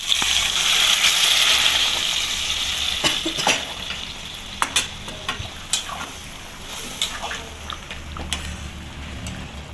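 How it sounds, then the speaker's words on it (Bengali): Hot water hits a pan of frying mutton masala for gravy, making a strong hissing sizzle at first that settles into bubbling with scattered clinks and stirring scrapes. "এবার আমি গ্রেভির জন্য গরম জল দিয়ে দিচ্ছি।"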